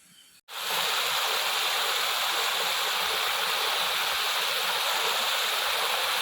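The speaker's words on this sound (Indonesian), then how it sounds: "Makan kali ini diiringi dengan suara air terjun yang sangat-sangat syahdu" A jungle waterfall at a forest campsite during heavy rain gives a steady, dense roar that starts abruptly after a brief quiet moment and continues unbroken, loud and close, with no voices.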